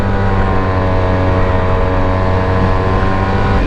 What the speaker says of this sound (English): If I twist the throttle very quickly,